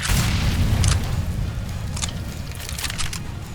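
Flashbang and incendiary grenades going off in a tactical shooter game, a heavy low rumbling roar that fills the whole stretch with a few brief crackling bursts layered on top.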